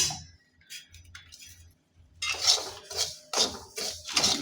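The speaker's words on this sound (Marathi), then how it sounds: "सुरुवातीला खसखस कोरडीच भाजून घ्यायची," Poppy seeds being dry-roasted in a pan for dates laddoos, with quiet rattling at first, then louder metallic scraping and clinking strokes of a spoon against the pan in uneven bursts.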